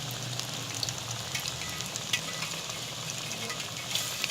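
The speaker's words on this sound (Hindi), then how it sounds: "ये देखें घी हमारा गर्म हो गया था, इसके अंदर हमने सारे पकोड़े ऐड कर लिए।" Pakoras fry in hot ghee with a steady, close sizzle and fine crackling pops, constant and even, with no talk over it.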